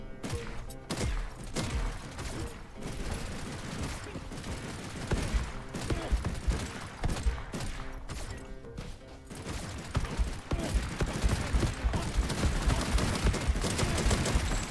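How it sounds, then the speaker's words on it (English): Dense video game gunfire, rapid machine gun bursts and repeated shots crackling almost continuously, growing louder and heavier toward the end, with a player's voice faintly underneath. "Under heavy fire. I've got a machine gun, by the way."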